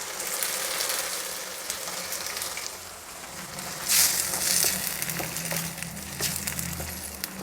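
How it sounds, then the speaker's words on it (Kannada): Tomato puree fries with onions in a pan, giving a steady moderate sizzle with scattered crackles and occasional scraping stirs, growing briefly louder around the middle. "ಪ್ಯೂರಿನಲ್ಲಿರೋ ನೀರಿನ ಅಂಶ ಹಿಂಗೋವರೆಗೂ ಇದನ್ನು ಫ್ರೈ ಮಾಡಬೇಕು."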